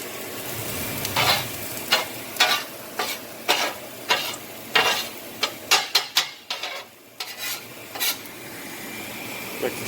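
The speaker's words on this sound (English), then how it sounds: "Let that start sauteing up." Squash, peppers and onions sautéing in a pan, a low sizzle under repeated scraping strokes of a utensil stirring the vegetables, close and rhythmic with brief pauses.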